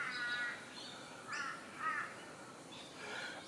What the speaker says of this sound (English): I do love listening to the sound of the birds in the morning.